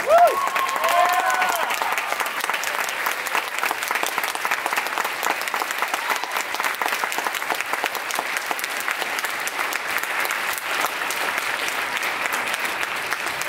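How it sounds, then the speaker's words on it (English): Sustained applause from a concert audience at a high school instrumental fall concert, steady and dense throughout, with a faint voice or tone at the very start. "So give them a round of applause."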